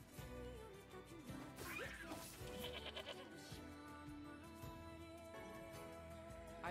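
Sheep bleat in the video game Nier Replicant, a wavering cry rising out of dense in-game music and crashing effects, fairly loud and close.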